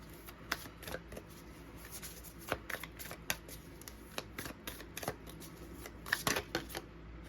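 A sticky tarot deck is shuffled up close in a quiet room, its card riffles and flicks falling as irregular crisp bursts and taps with small pauses between them.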